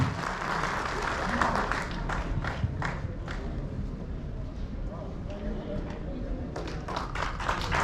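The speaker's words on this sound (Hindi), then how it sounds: "तालियों में कोई कमी नहीं है" Applause from a crowd at a state party convention, dense overlapping clapping that holds steady throughout, with someone speaking over it on a public address system.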